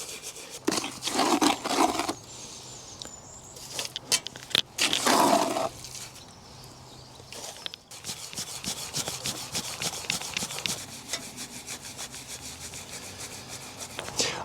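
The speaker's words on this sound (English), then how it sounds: "Just kind of oscillate the concrete, just to kind of rub the concrete against the side on the inside a little bit." Wet concrete scrapes and rubs against the inside of a garden railway mould in close, gritty strokes, with louder bursts early on and then a steady rasping rhythm, no talk.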